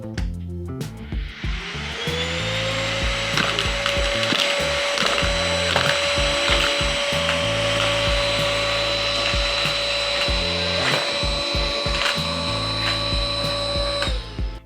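A Dnipro-M DVA 200BC cordless vacuum cleaner starts up and runs with a steady high motor whine and airflow roar, close and loud, with clattering and rattling of debris being sucked in, then winds down at the end.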